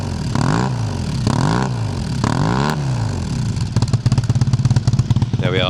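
A 1990 Yamaha Super Ténéré 750 motorcycle engine, loud and close, revved in three rising-and-falling blips before settling into a lumpy, pulsing idle, heard alone without talk.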